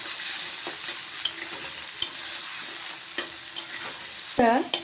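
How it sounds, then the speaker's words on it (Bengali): A constant hiss of potatoes frying in a pan until browned, punctuated by sharp scrapes and taps of a spatula stirring. "এবার আলুটাকে লাল করে একটু ভেজে নেব"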